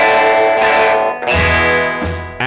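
Loud, distorted electric guitar chords ring out with heavy reverb and a wavering tremolo, struck in a few slow sustained hits that decay between strums.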